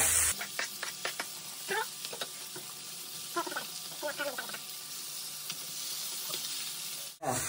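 Onion and garlic frying with already browned chicken, a continuous soft sizzle under repeated scrapes and stirring clicks from a spoon, close by, ending in an abrupt loud knock.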